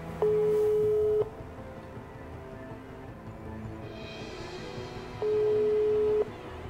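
Busy signal on an unanswered telephone call, two loud steady tone bursts about a second long each, separated by a pause with faint background hum, no talking.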